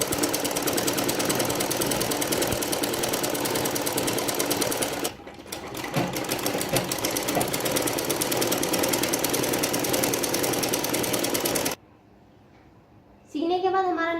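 An electric sewing machine stitches a two-panel salwar in a loud, continuous rattling hum, stopping briefly twice, with a voice heard during the second pause.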